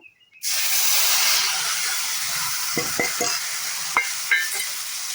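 Spice paste mixed with water is poured into hot oil in a kadai and bursts into a sudden loud hissing sizzle that holds steady, with a few utensil knocks near the end.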